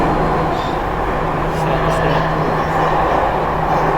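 A Jakarta MRT metro train rumbles along at speed with a steady roar and a faint tonal hum, loud and continuous from start to finish.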